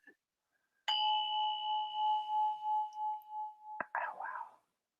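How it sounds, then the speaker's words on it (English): A single struck bell rings out clearly in a quiet room and sustains with a slowly pulsing, fading tone for about three seconds before a soft clatter and murmur. "when I ring this bell, the healing space opens up"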